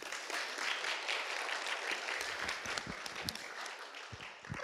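Audience at a college roundtable event applauding the panelists, a faint, distant patter of many hands clapping that continues for several seconds with scattered sharper claps.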